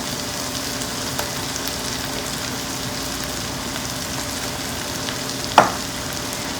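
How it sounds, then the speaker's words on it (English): Potatoes fry in hot oil with cooked masala for a potato curry, giving a steady even sizzle with one sharp clack of a utensil near the end and no talking. "So at this point we will add our potatoes."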